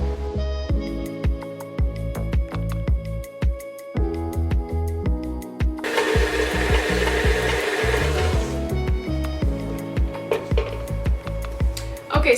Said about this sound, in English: I'm using our standard KitchenAid mixer here, and I have butter, brown sugar, and granulated sugar, and we're gonna dump this all in the bowl and give it a good mix